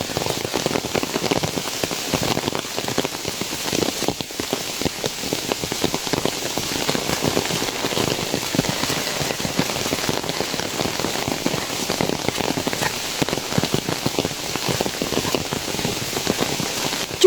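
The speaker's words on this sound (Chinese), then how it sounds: "现在听一下这个雨声" Rain falls steadily on a forested mountain trail in the Qinling Mountains, a close, even patter of drops on leaves and ground that continues unbroken with no one talking.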